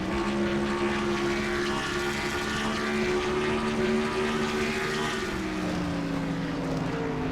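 A race car engine revs high and steady in third gear on the road course at Riverside, California, its tone holding then dropping slightly, a loud continuous whine with no talking.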